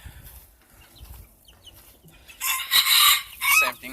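A yellow leg hatch red quill cross gamefowl rooster crows loudly and close, one long strained crow near the end after quieter rustling and faint background sounds.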